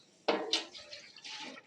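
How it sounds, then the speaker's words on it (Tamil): Water splashes into a pot of rice for soaking while mutton biryani is prepared at a dargah kitchen, a few close sloshing pours with faint clinks of metal vessels, no talking. "அரிசியை ஊற போகிறதுக்கு தண்ணி ஊற்றிக்கிட்டுருக்கோம்."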